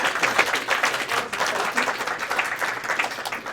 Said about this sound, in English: this is the point where applause is optional because we've reached the end